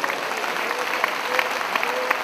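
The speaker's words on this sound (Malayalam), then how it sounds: "കൈയടിച്ചൊന്ന് സ്തുതിച്ചേ" A church congregation applauding together at a worship service: dense, sustained clapping from a crowd, fairly loud and steady throughout.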